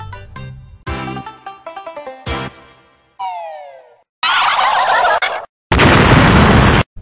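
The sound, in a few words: bird used as a gun in video game Banjo-Tooie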